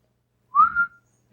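A person whistles one short rising-then-level tone, close and clean against silence, followed by a brief soft knock at the end.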